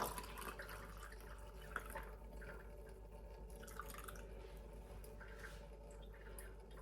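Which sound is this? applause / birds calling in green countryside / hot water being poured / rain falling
hot water being poured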